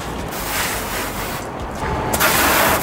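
Rinse water runs off the roof of a Lamborghini during a hand wash, a steady broad splashing wash of sound that swells louder toward the end, with no voices.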